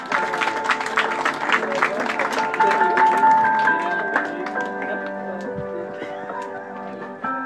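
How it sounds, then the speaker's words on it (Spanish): Guests at a quinceañera celebration applaud, the clapping strongest at first and gradually thinning out, while sustained music tones ring over and through the fading applause. "Fuerte el aplauso, por favor,"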